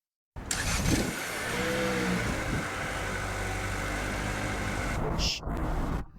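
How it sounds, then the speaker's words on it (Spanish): Renault Duster petrol engine running smoothly, a steady low mid-pitched hum heard from a short distance with faint background noise and a brief cutoff near the end. "¿Podemos admirar lo silencioso que es el motor desde la distancia?"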